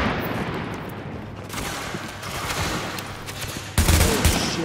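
Bursts of gunfire crackle in a Dark Zone firefight in Tom Clancy's The Division, with rapid volleys and heavier booming shots layered over continuous battle noise, growing louder toward the end.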